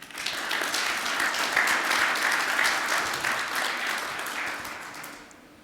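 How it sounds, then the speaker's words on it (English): Audience applause at a cybersecurity conference talk, a full room clapping steadily for about five seconds before it slowly fades. "Big round of applause for Richard."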